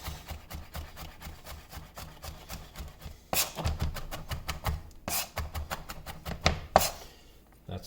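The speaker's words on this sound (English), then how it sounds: "and roughly chop it up" A knife roughly chops smashed garlic cloves on a board with a quick, steady run of close, crisp taps that turns into louder, sharper chops toward the end, with no talking.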